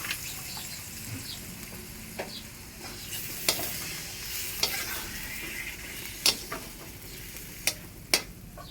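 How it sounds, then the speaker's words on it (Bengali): Spice masala being sautéed in a pan with a little added water gives a constant soft sizzle, and a spoon stirs and scrapes against the pan in sharp, irregular clicks. "ভালো করে মশলা আমি কষিয়ে নেব।"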